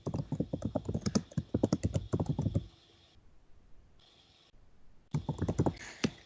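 A file name is typed on a computer keyboard in quick bursts of crisp, close key clicks, with two brief pauses before the rapid tapping resumes.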